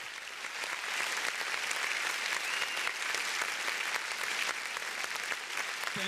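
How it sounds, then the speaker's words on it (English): A large audience at a university freshers' orientation claps steadily for the Vice Dean, a dense continuous wash of hands that swells slightly after the first second and holds. "Please, you can clap some more, you can clap some more."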